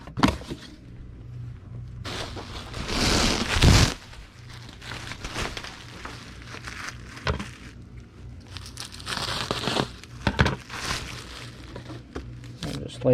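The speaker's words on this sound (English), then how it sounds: "And a sheet of bubble wrap that will cut in half." A sheet of bubble wrap crinkles and crackles while it is handled, cut and folded for packing eBay parcels, with bursts of rustling and scraping between quieter stretches, close and fairly soft.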